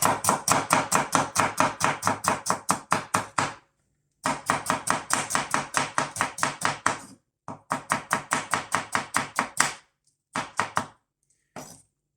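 A knife chops food on a cutting board for a tortilla in quick, steady runs of crisp thunks, three long bursts broken by short pauses and ending with a few final strokes, close and clear with no talking.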